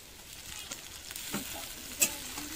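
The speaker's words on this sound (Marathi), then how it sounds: "बघा लसूण टाकते आता, चला भाजूया चांगला" Garlic frying in a pan for a home-cooked Marathi dish, a faint steady sizzle with light stirring scrapes and a brief clink.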